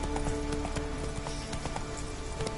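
A horse gallops in The Witcher 3: Wild Hunt, its hooves beating a quick, steady clip-clop rhythm close by, set against a hissing, rain-like outdoor ambience with no talk.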